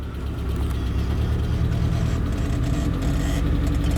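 A 1987 Suzuki Samurai with 4.16 transfer case gears and 4.57 ring and pinion runs in four-wheel low, its engine giving a loud, steady, close mid-pitched drone that holds even throughout, with no voices.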